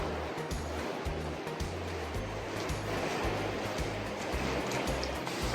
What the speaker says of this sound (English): Checking out this awesome waterfall.